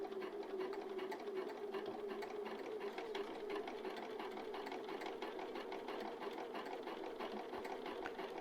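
A sewing machine top stitches a blazer along the edge of the foot, a steady continuous mechanical whir running the full length without pause, close and even.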